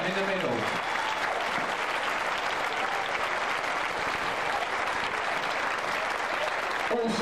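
Holiday camp crowd applauding the winners of a 1995 rock 'n' roll dance final, a dense, steady roar of clapping that continues evenly throughout, with a brief voice at the start.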